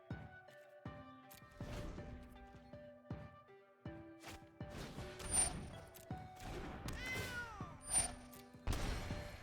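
A cat token in the digital card game MTG Arena lets out repeated meows and yowls, layered with short game effect chimes and thumps in quick succession.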